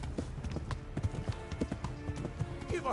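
A horse gallops in Kingdom Come: Deliverance, its hooves thudding in a rapid, even clip-clop rhythm that stays close and prominent from start to end, with no talk over it.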